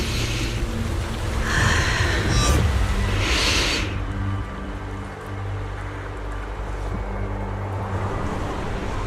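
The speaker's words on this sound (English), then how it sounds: "The wind. It's shifting." Strong wind rushing in the Zenless Zone Zero video game, a loud broad gusting roar that swells in the first seconds and then settles into a lower steady blow, with no talk.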